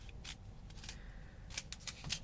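Scissors snip through craft foam in a few quick crisp cuts, close and fairly quiet, with low background rumble underneath and no talking.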